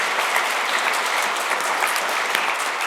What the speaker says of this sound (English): join me one more time in giving this amazing crew a round of applause.